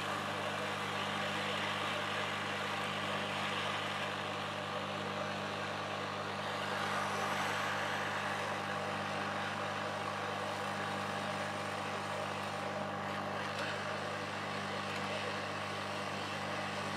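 Hot air blows steadily over a receiver board while an RF switch is desoldered from a dead XF Nano receiver, a continuous even airflow hiss with a low hum underneath for the whole stretch.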